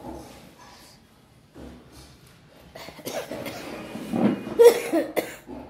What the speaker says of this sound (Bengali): কাশি হচ্ছে, ঠান্ডা লেগেছে যে না